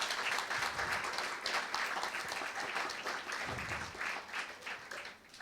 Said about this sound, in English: we really deserve a big round of applause